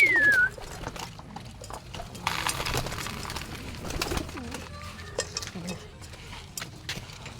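Low pigeon cooing murmurs under scattered clatter and shuffling, with faint voices and footsteps nearby.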